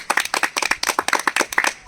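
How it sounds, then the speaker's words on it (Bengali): A quick burst of lively hand clapping, sharp and close, several people clapping in a fast irregular rhythm with no talk. "খেলার আগে একটা জোর হাততালি হয়ে যাক"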